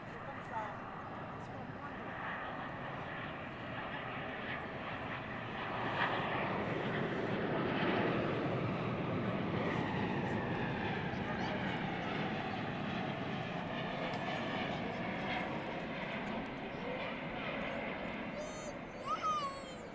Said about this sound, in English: there's our first heavy arrival of the evening on Runway DFW